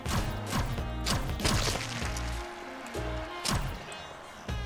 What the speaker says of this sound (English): That head explosion sound is so loud